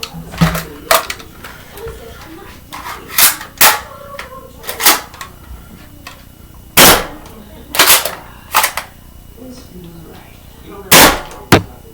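A Dart Zone Aeon Pro blaster fires foam darts in loud, sharp, close shots with an irregular rhythm, some in quick pairs, with mechanical clicks between them.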